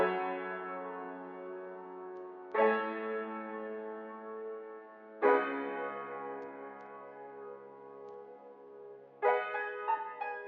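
Basic chords on an Analog Lab synth sound in four sustained blocks, each struck sharply and then ringing with a bright, bell-like tone, played alone with no voices.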